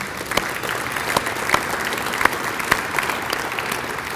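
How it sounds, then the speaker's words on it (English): An indoor audience at a 2022 mayoral forum gives a round of applause for the event's sponsors: dense, steady clapping from many hands that holds at an even level throughout, with a few sharper individual claps standing out. "Please, can we have a round of applause for all of our sponsors today?"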